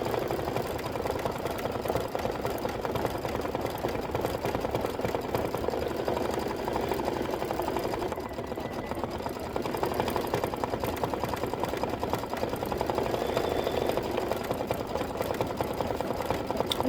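An embroidery sewing machine stitches out a Kimberbell design, a spindle fill done with white bobbin thread, producing a continuous, even mechanical hum and rapid needle chatter that runs unbroken and close, with no talking over it.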